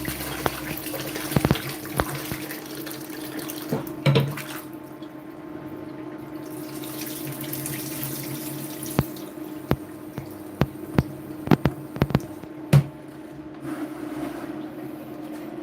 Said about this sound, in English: Washing my rice, guys.